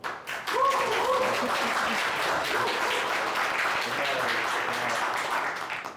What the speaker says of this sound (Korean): 스스로를 위해서 자충의 박수를 한번.